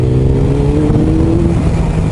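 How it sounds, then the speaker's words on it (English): A turbocharged vehicle accelerates, its engine note rising as the turbo spools, a steady, loud, close drone with climbing tonal harmonics and no talking. "Turbo moment."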